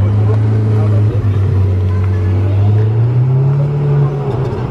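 A yellow Ferrari Pista with black wheels loops around a square in Monaco, its engine a loud, close, steady drone that rises slightly in pitch toward the end.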